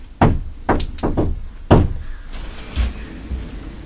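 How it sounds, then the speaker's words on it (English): Knocks inside a reputedly haunted old homestead house: a first knock, then several sharp loud thumps in quick succession, followed by a couple of fainter raps in a quiet room. "I knocked and it went boom, boom right after."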